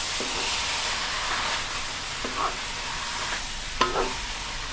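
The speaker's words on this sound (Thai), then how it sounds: "ก็ผัดแล้วค่ะ" Chainat rice vermicelli stir-fried with pork belly, producing a loud, steady hissing sizzle with a few scraping strokes of a spatula against the pan near the end, no voices.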